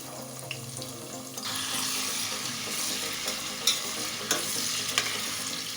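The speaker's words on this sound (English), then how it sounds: "So I'm going to fry until it's translucent." Ingredients are dropped into hot oil in a pan for a vegetable fish stew. A quiet start bursts into a loud, continuous sizzle with a few sharp clicks and stirring scrapes.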